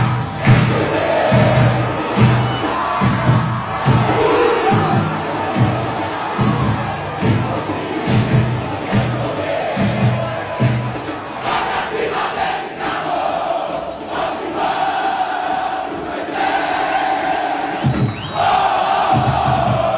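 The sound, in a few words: CRB football fans chanting and cheering in stadium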